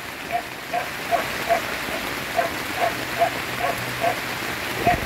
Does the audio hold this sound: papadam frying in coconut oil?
no